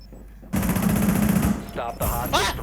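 Gunfire in the video game Rainbow Six Siege: a sudden loud burst of automatic fire that runs for about a second, then shorter bursts follow, mixed with game noise and a voice.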